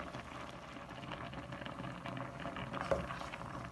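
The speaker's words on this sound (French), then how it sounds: "faut laisser le gombo cuire, vraiment cuire" Okra and fish broth boiling in a pot, a soft continuous bubbling and patter at low level, steady throughout with one brief louder pop near the end, no talking.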